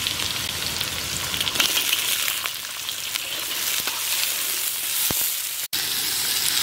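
Steady, loud sizzling of radish frying in hot mustard oil, with a few sharp pops and crackles throughout and no voices.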